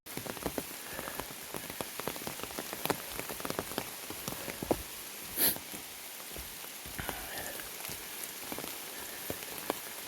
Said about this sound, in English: let's go deal with this rain.